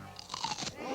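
A crunchy Vlasic pickle is bitten, giving a single close, crisp crunch with a brief crackle of wet snapping lasting under a second.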